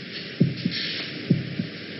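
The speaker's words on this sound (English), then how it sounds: "Can you hear your heart beating?" A heartbeat thuds out in slow paired beats, two lub-dub cycles over a low, steady hum, close and muffled with no other sound.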